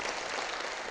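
Audience applause for a cinema museum at a Latvian film talk, a dense wash of many hands clapping, continuous and fairly loud throughout the short burst.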